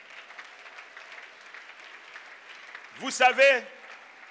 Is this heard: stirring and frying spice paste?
no